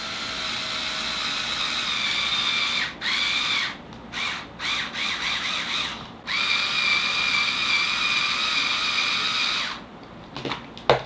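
A power drill drives screws into the teeth of a handmade Spring Bonnie mask, giving several close, loud whirring bursts that stop and start, with short pauses between runs and a final brief spin.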